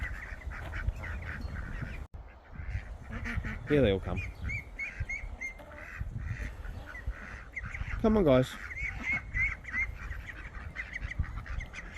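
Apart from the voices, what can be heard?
ducks quacking in a garden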